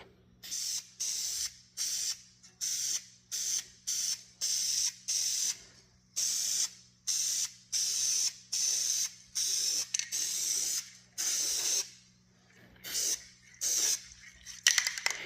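Bursts of aerosol spray from a rattle can of paint, used on part of a 1977 Ford F-250 project, come as a steady series of short hissing blasts separated by brief pauses, close and fairly loud.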